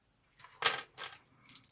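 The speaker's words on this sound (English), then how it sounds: "So we roll 5 dice for the damage." Five dice are rolled for damage in a Star Wars D6 tabletop game, clattering close by in a few quick bursts of rattling as they tumble across the table.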